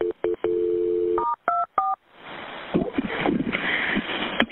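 Telephone dialing while a call is transferred to the fire department: several loud beeping tones and held dial tones, then a rushing line noise with faint muffled sound behind it.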